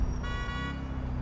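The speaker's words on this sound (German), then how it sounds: "Hör auf zu hupen, ich bin am Arbeiten hier." A car horn sounds once, a steady half-second honk in the GTA IV video game, over a continuous low engine and traffic rumble.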